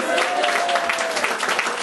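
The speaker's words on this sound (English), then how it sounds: "Round of applause, please." Applause from a studio audience greeting a newly knighted comedy-show host, a steady dense clatter of many hands clapping for a couple of seconds.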